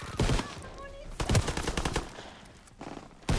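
In the Call of Duty WWII video game, a machine gun fires in three short loud bursts separated by brief pauses, with faint background game sound between them.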